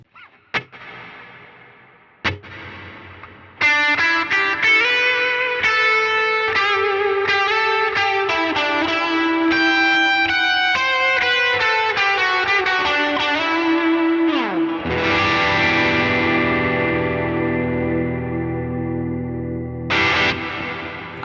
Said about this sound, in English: Now let's bring the modulation in.